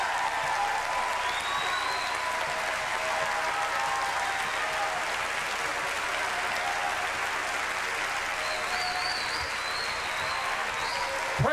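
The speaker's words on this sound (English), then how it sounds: "Let's give the Lord a big clap offering." A church congregation claps in long, steady applause, a dense continuous roar of many hands with faint voices and an occasional whoop mixed in beneath.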